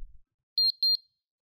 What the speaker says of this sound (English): wait for the audible double beep